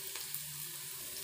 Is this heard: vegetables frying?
yes